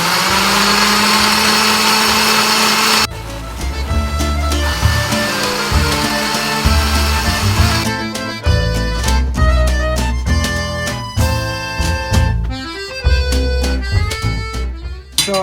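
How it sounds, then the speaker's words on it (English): An electric blender mixes buckwheat crepe batter made with sourdough starter, giving a loud, steady motor whir whose pitch and texture shift as the batter churns. No voices. "I'm just going to go ahead and blend for about a minute"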